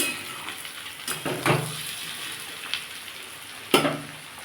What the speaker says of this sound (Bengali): আমার সবজিটা অনেকটাই ভাজা হয়ে গেছে